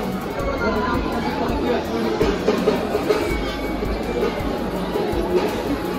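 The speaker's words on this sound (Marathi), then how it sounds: "मित्रांनो आज शुक्रवार असल्यामुळे खूप गर्दी होती मंदिरात" Busy crowd noise inside a Hindu temple at Tuljapur on a Friday: steady murmur of many voices and shuffling, with pigeons cooing faintly in the background throughout.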